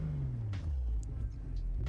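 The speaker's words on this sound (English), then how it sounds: "We're gonna go ahead and give it some revs." BMW M440i convertible in Sport mode, engine revved while stationary, a low rumbling rise and fall heard close.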